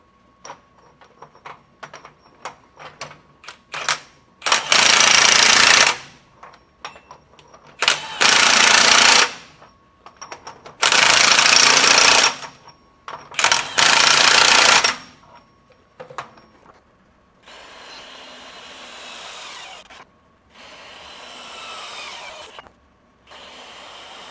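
A RIDGID 18V 3/4-inch high-torque cordless impact wrench fires four loud, close hammering bursts of a second or two each, with quieter clicks and handling noise between them and a softer rattling stretch at the end.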